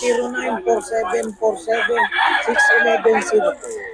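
A rooster crows loudly and close at a poultry sale in Bocaue, its long calls overlapping with other clucking fowl nearby.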